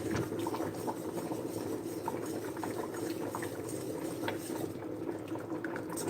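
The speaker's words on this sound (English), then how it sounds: "Just keep on whisking." Cheese being whisked into a creamy chicken tortilla soup in a pot to thicken it into a sauce, with a steady close bubbling, liquid churning sound that continues without a break.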